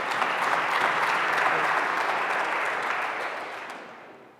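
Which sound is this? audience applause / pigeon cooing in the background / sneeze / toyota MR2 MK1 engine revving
audience applause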